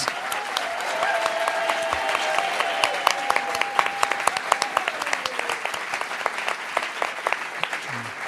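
Applause from a live audience at the close of a food-themed stage show about pasta, as the host calls out a guest. A sustained, dense round of clapping with sharp individual claps standing out, plus a few voices and cheers over it.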